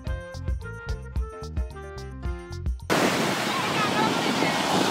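Sea waves break and wash up the sand on the quiet Bali Harachandi beach near Puri, a steady loud roar of surf that begins abruptly after a stretch of music.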